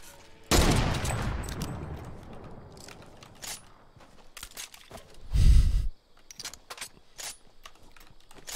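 Pump shotgun blasts in Fortnite Battle Royale, one loud close shot early followed by a second heavy blast a few seconds later, with rapid clicky keyboard-like clatter and smaller bursts in between.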